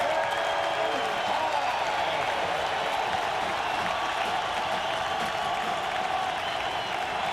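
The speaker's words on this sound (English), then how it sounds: "Crowd making noise." Loud, sustained stadium crowd roar during overtime of a 2001 NFL game between the Chargers and the Patriots, a dense continuous wall of cheering with a commentator talking over it.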